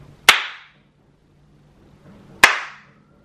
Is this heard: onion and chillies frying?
no